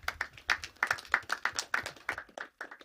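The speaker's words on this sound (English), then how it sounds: "Please, a round of applause for everyone." A crowd at a music business conference applauds steadily, many hands clapping in a dense, lively burst that carries on before tapering off near the end.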